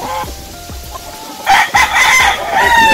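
A Roundhead gamecock rooster with yellow legs and a straight comb crows in a backyard, a loud drawn-out call near the end with other clucks and fowl sounds around it.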